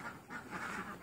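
Ducks quack in a layered chorus inside a duck pen built with a bamboo frame, wooden supports and a zinc roof on a farm raising laying ducks, steady and fairly faint, with no talking.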